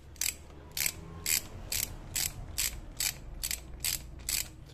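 A ratchet wrench loosens ignition parts on a CHT engine, giving about ten evenly spaced bursts of sharp, close ratcheting clicks against a low background rumble.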